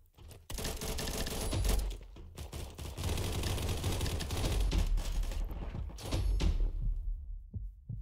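Dense, loud gunfire in the Combat Master first-person shooter, rapid bursts and volleys packed close together across most of the stretch, with short gaps and scattered clicks near the end.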